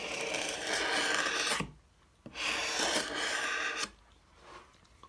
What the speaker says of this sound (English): And then just carving away just to lose the squareness of the foam.